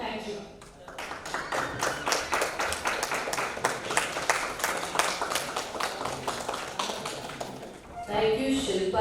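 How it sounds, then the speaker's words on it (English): An audience at a talk on Rāmāyana Śilpa Śāstra claps steadily for several seconds, a dense, even patter of many hands that fades near the end as a voice starts speaking. "thank you so much for applauding"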